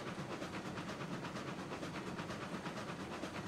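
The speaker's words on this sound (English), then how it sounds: "I'm pulling up a definitive train here" Train from the RAILROADS Online video game rolling along at a steady pace, a continuous dense rumble with faint repeating rhythmic beats throughout and no voices.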